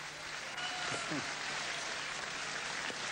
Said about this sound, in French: la salle est debout et applaudit frénétiquement ce combat absolument fabuleux